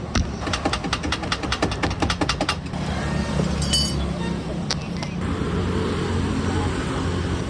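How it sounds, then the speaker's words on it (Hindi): A car that is being worked on fails to start: a burst of rapid, regular clicking is followed by a steady, loud mechanical rumble with some voices in the background. "मैं और भैया दोनों मिलके तैयार कर रहे हैं गाड़ी को, पर ये होने का नाम नहीं ले रही है।"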